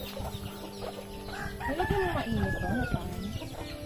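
A rooster crows in a rising and falling call, fairly close, with faint background noise and a hint of voices.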